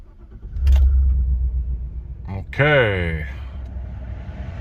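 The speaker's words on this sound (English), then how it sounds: "Hopefully the truck starts." A Chevrolet Silverado pickup truck, just tuned with its engine and transmission control modules reflashed, cranks over and settles into a low, steady idle rumble, with a brief chime and a voice heard speaking near the end.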